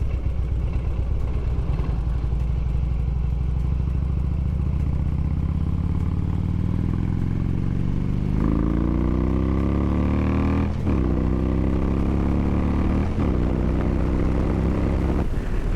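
A Harley motorcycle engine rumbles loudly on a Louisiana road ride, its pitch climbing steadily through the gears with brief dips at each shift, close and continuous.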